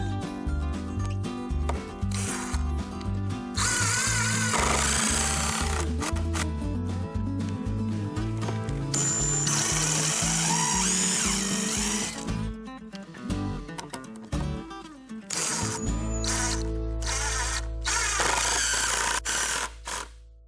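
A power drill whirs in repeated bursts, revving up and bogging down as 3-inch coated deck screws are driven into wooden boards, with brief pauses and clatter between runs.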